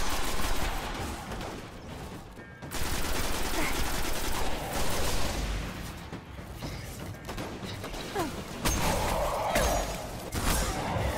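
Rapid bursts of automatic weapon fire and mechanical clatter in the PS4 shooter Destiny, loud and dense with brief lulls, sometimes under a speaking voice.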